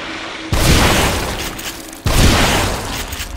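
Two loud, close shotgun blasts in The Evil Within, each a sharp booming crack with a long fading tail, spaced about a second and a half apart.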